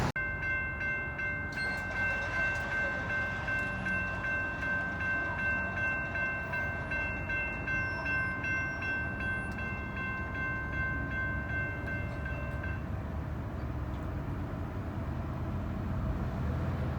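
A northbound train passes on the nearby track with a long, steady rumble of wheels and cars, and a sustained horn blows through the first half.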